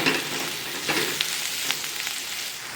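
Spiced eggplant mash for baingan bharta being stirred in a hot pan, with Kashmiri chili, salt and coriander added. Steady close sizzling runs throughout, broken by several soft scraping stirs, and no one speaks.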